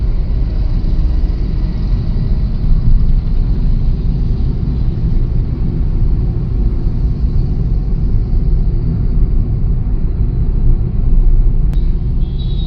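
A Kia Carens with manual transmission drives along, its engine and road noise forming a loud, steady rumble heard from inside the cabin throughout.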